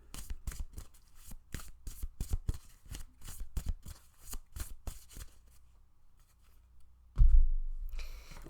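Tarot cards shuffled by hand in a series of quick crisp riffling bursts, followed by a louder thump near the end, with no talking.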